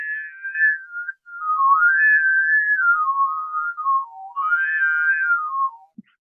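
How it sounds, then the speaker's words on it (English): A single voice producing a whistle-like overtone melody, a pure piping tone gliding up and down in a long unbroken phrase, with no other sounds. "the overtone singing, which is famous within Mongolia"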